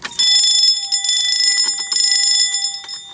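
A newly installed fire alarm system sounds during a test, giving a loud, steady electronic ringing tone that holds for about three seconds, close and alone, with slight pulsing before it fades near the end.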